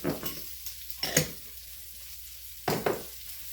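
Squash and zucchini stir-frying in butter, with a few brief bursts of sizzle and stirring spread apart by quiet stretches, close and not loud, with no voices.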